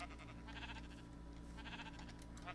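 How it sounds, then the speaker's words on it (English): Sheep in the video game Minecraft bleat several times in quick succession over a steady low in-game background hum, with no talking. "how many sheep we got here?"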